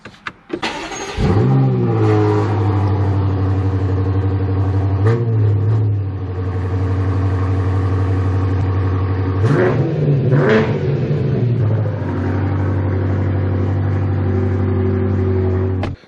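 A BMW M8 engine cranks and fires at close range, settling into a deep, steady idle rumble that swells with two brief revs partway through.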